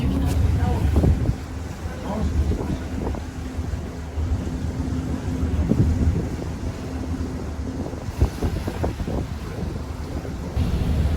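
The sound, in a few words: ferry ride on Lake Como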